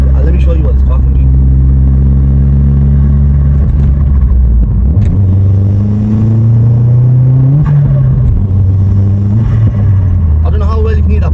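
A Stage 2 Vauxhall Astra VXR of about 320 bhp drives on the road, its engine a loud, steady low rumble that rises and falls through the gears as it accelerates, with occasional voices over it.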